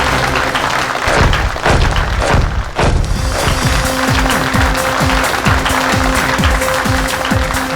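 An audience at a televised performance show applauds loudly and steadily for a star performer, with dense crowd clapping filling the whole stretch and rhythmic thuds underneath.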